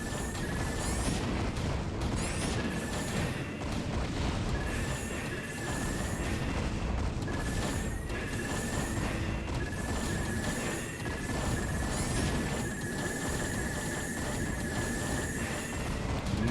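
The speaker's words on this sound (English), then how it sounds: "Nothing but the sound of Charon boosters in the morning." Goliath units firing Charon Booster-upgraded missiles in StarCraft: Brood War, repeated rapid bursts of launch and impact noise over dense continuous battle clatter, with no talk.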